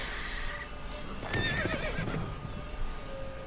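A horse in The Witcher 3 gives a single loud whinny with a shaky rising and falling pitch, alongside a few clip-clop hoof sounds over quiet background noise.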